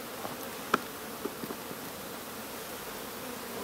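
Honeybees at a hive frame make a steady, even buzzing hum throughout, with a single faint click near the start.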